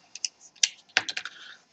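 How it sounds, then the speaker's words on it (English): An Asus X54C laptop keyboard is pried loose during disassembly, a quick run of light plastic clicks and snaps close by, with no talking. "Now we gotta remove the keyboard."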